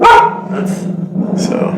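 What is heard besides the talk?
dog barking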